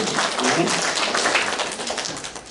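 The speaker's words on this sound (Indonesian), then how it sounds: "Berikan tepuk tangan bagi itu." A church congregation applauds on Good Friday in a dense, continuous wash of many hands clapping, fairly loud and steady throughout.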